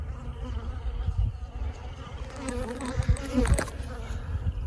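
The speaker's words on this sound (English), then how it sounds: "I'm that far away from the hives, I've still got bees on me." Honeybees droning around a beekeeper near storm-toppled hives, a steady close buzz with a few sharper passes of bees flying right by.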